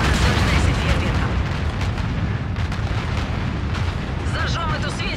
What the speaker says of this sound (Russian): следим, как взорвется эта башня